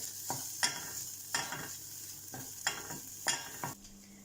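Onion and garlic cooking in a pan, heard as quiet frying with a handful of separate scraping stir strokes at a steady pace, no voices.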